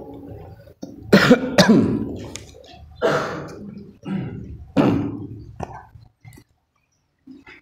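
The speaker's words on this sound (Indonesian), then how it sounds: "Ini banyak yang batuk ya, banyak yang flu." Several separate coughs and throat-clearing bursts from an audience at an Islamic religious lecture, spaced irregularly, moderately loud, with low murmuring between them.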